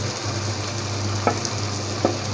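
Chili powder sizzles in hot oil for a beef curry, a steady crackling hiss over a low hum, with two brief clinks of a utensil against the pot.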